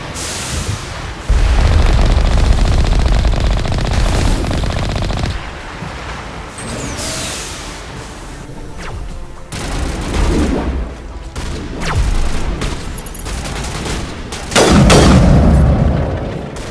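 Mass Effect battle noise has heavy artillery booms and bursts of automatic gunfire that come in loud waves. Rumbling blasts sit close, with quieter gaps between the barrages.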